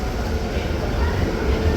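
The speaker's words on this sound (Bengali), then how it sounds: "আর হলদিয়া আনন্দবিহার টার্মিনাল ঢুকছে" The Haldia to Anand Vihar Terminal express pulls into a station platform, a loud, steady, close rumble of rolling wagons filling the short moment.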